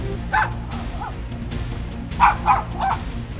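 A dog barks in alert, a few short sharp barks spaced across a few seconds over a low background rumble.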